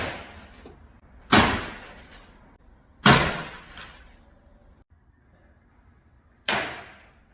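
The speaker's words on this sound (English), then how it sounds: "the person was throwing out old books and they didn't want to walk down all those stairs and just kept throwing the books out in the window" Old books tossed from an upstairs window land one after another with three sharp, loud slapping impacts spaced a couple of seconds apart, each decaying quickly, with quiet ambient background between.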